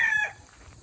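Farm chickens, a close rooster crow breaking off into softer clucking fowl.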